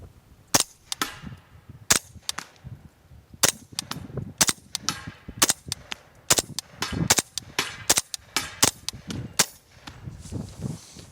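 A suppressed Henry Homesteader 9mm carbine with an AB Suppressor F4L fires subsonic Fiocchi 158 grain rounds: about twenty sharp, close, moderately loud reports in irregular strings, each with a short tail, and no talk.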